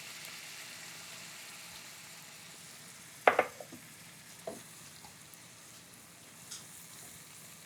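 Flour sautéing in melted butter for a chicken à la king sauce, a soft steady sizzle close by with a few sharp scraping clicks of stirring near the middle.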